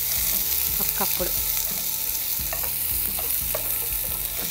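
Raw onion pieces and cumin seeds frying in a small amount of oil for a tempering, giving a loud, close, continuous sizzle with a few stirring scrapes and a brief spoken word over it.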